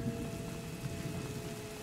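Rain falls in the video game A Plague Tale: Innocence, a soft, steady patter and hiss heard faintly in the background under a low ambient hum, with no talking.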